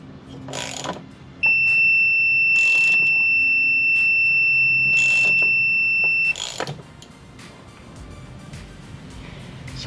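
A multimeter gives a continuity beep while testing the ignition points of a 1971 Johnson 25hp outboard: one clear, sustained tone lasting about five seconds, set among a few light taps and clicks.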